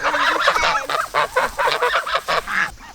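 A goose in a garden honks repeatedly, about ten loud nasal calls in an uneven run, close to the listener with no talk over them.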